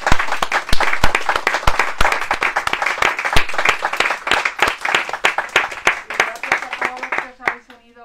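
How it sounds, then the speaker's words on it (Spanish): An audience at a book presentation in a bookshop claps warmly, a dense run of close, crisp hand claps that fades out near the end as a voice starts speaking. "Un aplauso."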